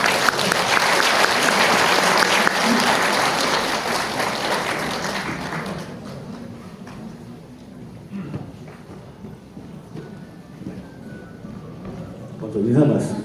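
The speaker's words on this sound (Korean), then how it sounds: "큰 박수로 맞이해 주십시오." A film festival audience at a guest-visit movie talk applauds loudly to welcome a director and lead actress, a dense wash of clapping for about six seconds that thins into a quieter room, then a brief swell near the end.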